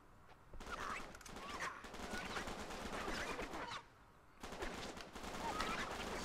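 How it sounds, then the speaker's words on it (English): Rapid gunfire from snipers and other weapons in the Uncharted 3: Drake's Deception video game, a dense crackling fusillade that runs loud and continuous, dips briefly and then resumes at full intensity. "Snipers!"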